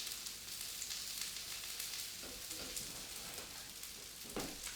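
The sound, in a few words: fritters sizzling in pan after flipping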